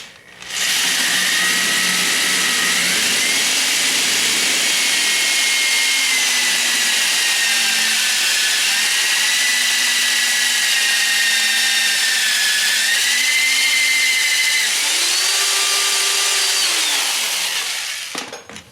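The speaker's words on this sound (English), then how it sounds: "you need to use a 3/8 inch drill bit to ream that out" A power drill reams a hole with a 3/8 inch bit, whining steadily for most of the clip, pitch dipping and rising as the bit bites and eases, loud and close with no talking.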